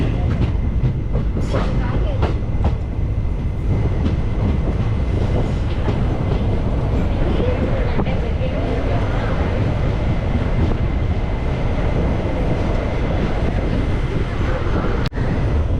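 A train runs on the Guruvayur to Tenkasi line after leaving Punalur station, heard as a loud, continuous rumble with rattling carriages and faint clickety-clack; a voice talks partway through.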